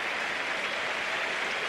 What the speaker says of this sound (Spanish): Se lleva el aplauso del público